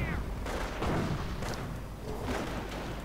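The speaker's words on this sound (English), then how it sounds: "Oh, and another heavy rocket barrage." Heavy rocket barrage in a World War II real-time strategy game, a run of dull thuds and blasts rolling through the whole stretch, with a commentator's voice running over the explosions.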